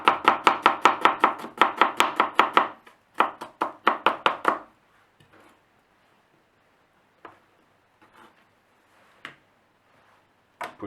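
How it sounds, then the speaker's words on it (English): A knife chops potato salad ingredients finely on a board, a fast run of sharp, even taps in two bursts, then a few scattered faint knocks with quiet gaps between them. "you can also just chop it really finely like that"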